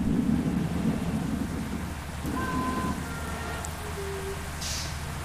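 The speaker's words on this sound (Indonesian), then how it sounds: "Di sini masih hujan." Rain and thunder in Bus Simulator Indonesia, a steady hiss of rainfall with low rumbling underneath, fairly faint and continuous, with a few brief tonal sounds over it.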